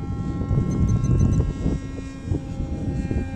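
A giant RC F-117 model plane flies past on an 11x7 propeller with a 3-cell battery, a loud steady buzzing drone that swells and then eases slightly as it passes.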